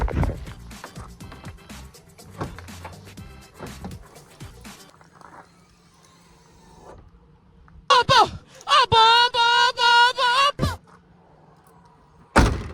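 Hatch of a Nissan 350Z, fitted with a budget mod, shutting with a loud thunk near 8 seconds and again at the end, after softer handling clunks and amid talk and other loud noise.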